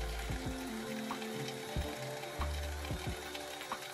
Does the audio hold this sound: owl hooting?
no